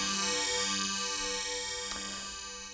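Synclavier Galactic Cymbal preset, a well-known gong: a shimmering metallic tone with many steady overtones, ringing out alone and slowly fading.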